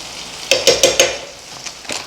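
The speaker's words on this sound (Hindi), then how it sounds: "मसाले को अच्छी तरह भून लेंगे।" Spices stir-fried in a pan for potato and egg curry give a soft sizzle, with four quick scraping stir strokes close by, then a quieter hiss and a couple of fainter scrapes.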